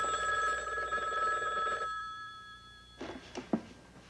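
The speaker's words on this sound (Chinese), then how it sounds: "你等一下哈，电话" A telephone rings indoors with a steady electronic bell tone that lasts about two seconds and then stops. A few soft knocks of handling follow, with no talking.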